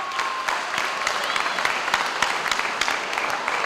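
A crowd at an elementary school ribbon-cutting ceremony applauds board member Joe Yoshimura, dense steady clapping close and loud throughout, with faint voices mixed in.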